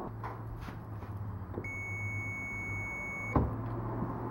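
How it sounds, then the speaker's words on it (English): A single steady electronic continuity tester beep, triggered by a clutch pedal switch wire on a 1990 DSM car, holds for under two seconds, clear and fairly close, over a quiet low hum with a click as it stops. "when we push the clutch pedal, you should hear a beep, an audible beep"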